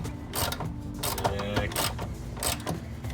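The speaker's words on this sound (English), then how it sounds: "Throw the jack under here and we will start lowering this down." A jack under a 1990 Nissan 300ZX is worked to lower the car, giving repeated mechanical ratcheting clicks and creaks at close range.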